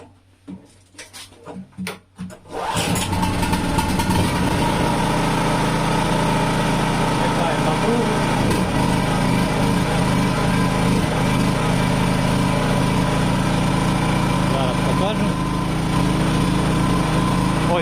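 A Narva 3300 petrol generator is started: a few short pull-start rattles and sputters, then the engine catches at about three seconds and runs at a loud, steady, buzzing idle until the end.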